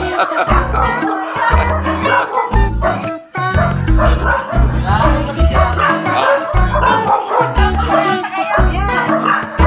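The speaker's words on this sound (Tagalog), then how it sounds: "Yung ina ng aso." Dogs bark and yip repeatedly nearby in a lively, overlapping chorus, with people talking over the noise.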